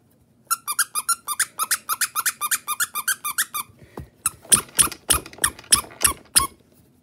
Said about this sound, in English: I was beating my own Among Us character because he's squeaky.